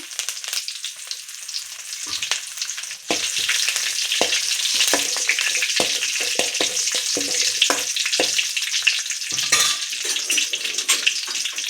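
Curry leaves hitting hot tempering oil in a home kitchen pan, a loud continuous sizzle and crackle that flares sharply a few seconds in and keeps spattering, close up with no talk.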